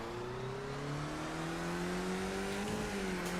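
Skip Barber race cars pull away from the start at Donington in the iRacing game, their engines climbing in a steady rising drone of revving, loud and continuous, with no voices.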